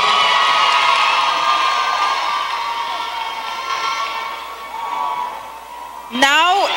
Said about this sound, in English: Give our other three ladies a round of applause as well.